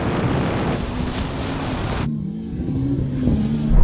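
A Tesla Model S Plaid launches hard in a drag race against a Ferrari SF90 and a Porsche 911 Turbo S. A loud, steady rush of wind and road roar runs under a rising motor hum, with no talking.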